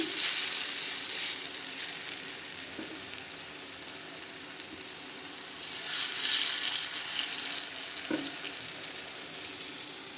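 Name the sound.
prawn-head fritters (bora) frying in oil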